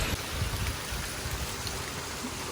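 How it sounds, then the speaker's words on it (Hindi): Heavy rain pours down steadily outdoors, a dense even hiss of drops with water running, moderately loud and continuous with no voices. "बारिश देखो कितनी तेज़ है।"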